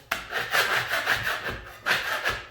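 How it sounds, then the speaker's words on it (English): A scraper drags across a wall, stripping off paint in a series of rough, rasping strokes, close and loud, about five scrapes in quick rhythm. "just take the scraper, and as you see this right here, I'm going to take it and scrape it"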